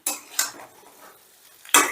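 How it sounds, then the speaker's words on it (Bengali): Utensil scraping and clinking in a pan as bori is stirred into a potato and aubergine curry, three short bursts separated by quieter gaps, close and fairly loud. "এবারে বড়িটা দিয়েও একটু মিশিয়ে নিচ্ছি।"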